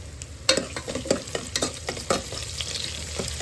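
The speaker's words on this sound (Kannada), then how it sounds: "ಈರುಳ್ಳಿನ ಹೆಚ್ಚಿಟ್ಕೊಂಡಿದ್ದೀನಿ ಅದನ್ನು ಸ್ವಲ್ಪ ಒಗ್ಗರಣೆಗೆ ಹಾಕೊತಾ ಇದ್ದೀನಿ" Chopped onion frying in hot oil in a pan for biryani, stirred repeatedly, giving close scraping clatter over a steady sizzle, with no talk.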